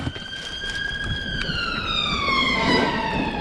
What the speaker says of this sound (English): It was an ambulance going past